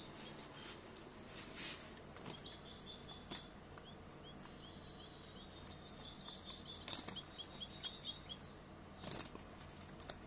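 Mutated goldfinches calling indoors: a faint series of quick, high twittering chirps in a run mid-clip, with scattered single notes and soft rustling, no talk.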